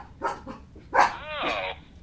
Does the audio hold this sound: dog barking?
yes